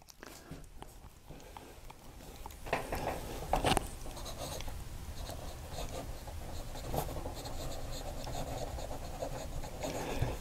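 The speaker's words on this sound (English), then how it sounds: "So let's put the modern pen to paper." A modern Parker Duofold fountain pen with a wet, broad-leaning nib writes on paper, giving a close, steady scratchy rustle with irregular stroke sounds and no talk.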